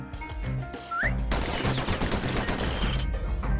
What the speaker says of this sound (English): Those pistols could spit out rounds just as quick as you could pull the trigger.